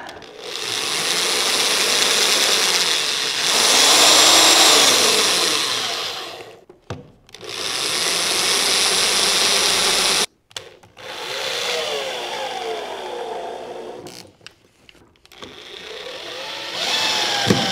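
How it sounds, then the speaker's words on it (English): A power drill driving screws whirs in long, loud bursts, revving and stopping several times with brief gaps between runs, close by and with no talking. "Keep drilling, a couple more to go and we're done."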